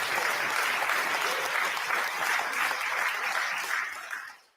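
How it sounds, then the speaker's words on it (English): Wedding guests clapping together in a crowd, a thick, even burst of applause lasting about four seconds before it quickly dies away. "Everyone up here are clapping."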